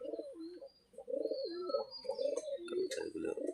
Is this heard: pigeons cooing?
yes